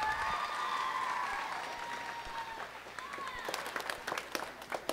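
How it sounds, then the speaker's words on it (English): Audience applause for the pianist at a middle school band and choir winter concert, faint at first under lingering tones, then sharper scattered claps growing toward the end. "big round of applause for Mr. Michael Butson on the piano this evening."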